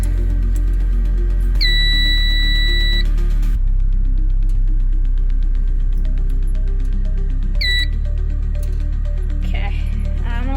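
A building alarm system in a basement under test gives two loud, sustained steady electronic tones, one lasting over a second and a shorter one later, over a constant low hum and a busy background.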